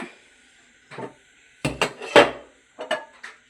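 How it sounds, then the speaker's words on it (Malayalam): A metal pot set down on a stove, a few clanks and scrapes in short clusters with quiet pauses between. "ഈ പാത്രം അടുപ്പത്ത് വെച്ചിട്ടുണ്ട്"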